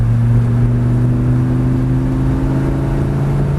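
Lamborghini Gallardo accelerating hard out of a left-hand corner, a loud, sustained engine drone with steady rising harmonics and constant road and wind roar beneath, no voices.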